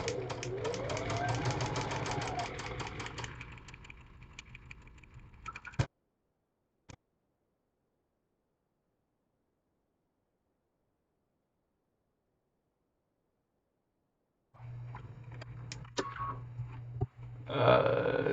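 A Brother sewing machine runs in a fast, steady rhythmic stitch while sewing half square triangles, stopping abruptly, then silence before the motor whirs again in short bursts near the end; a voice speaks over the start.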